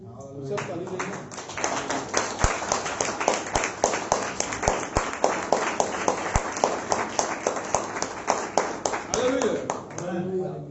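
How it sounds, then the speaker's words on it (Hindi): A church congregation at a Sunday meeting claps together in a fast, steady rhythm for several seconds, loud and close, with voices rising at the start and end. "हम प्रभु की महिमा के लिए सब ताली देंगे"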